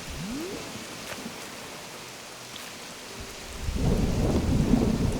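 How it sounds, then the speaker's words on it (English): Video game thunder rumbles low and distant with a steady rain hiss underneath, swelling into a louder rolling crash toward the end, with no talk. "That thunder is very fitting"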